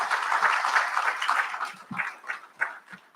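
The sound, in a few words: graduates' round of applause at recognition ceremony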